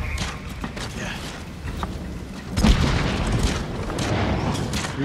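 Mongol siege weapons firing in the Ghost of Tsushima video game: a heavy boom lands partway through over a rumbling battle din, with a voice talking under it.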